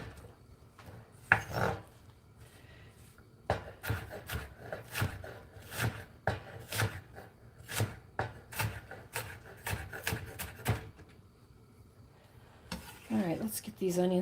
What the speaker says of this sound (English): excuse my chopping if you don't